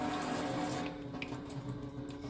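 Water runs steadily from a Companion Aquacube Logic portable shower. The flow is continuous and close, with a splashy hiss that eases a little partway through and then holds steady. No one speaks.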